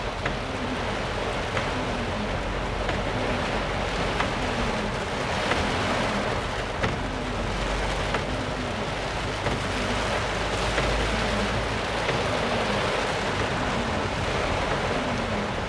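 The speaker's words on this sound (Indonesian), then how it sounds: "hujan lebat plus angin gini" Heavy rain pours steadily with wind, a continuous dense roar that holds without a break for the whole stretch.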